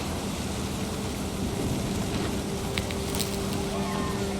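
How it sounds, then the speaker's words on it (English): Steady rain hisses through a stormy scene in What Remains of Edith Finch, with low thunder rumbling beneath and a steady hum running through it. "The thunder sounded much too close and full of angry power."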